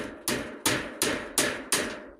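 Five evenly spaced, sharp hammer strikes driving nails while building a roof, close and loud, each ringing briefly before the next, with no talking.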